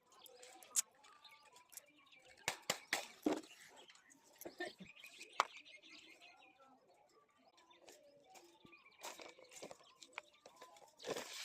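A pet parrot in a home kitchen, giving scattered chirps, squawks and sharp calls at close range, with clicks and small household clatter in between.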